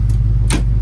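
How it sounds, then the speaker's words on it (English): Hazard flashers in a 1966 Ford Mustang Fastback 2+2 ticking, two sharp clicks about half a second apart over a steady low engine hum inside the car. "It's the flashers."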